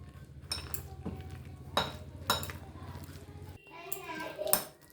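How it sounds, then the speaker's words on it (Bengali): Spoons clink and scrape against a bowl while egg batter is mixed with gram flour (besan), giving a few sharp metallic knocks among softer stirring, with a voice and other talk in the background. "আর দেব 2 চামচ বেসন দিয়ে সব কিছু মেখে নেব"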